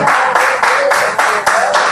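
A church congregation claps along in loud, rhythmic bursts, the applause swelling and dipping in a steady pulse with tones of music or singing underneath.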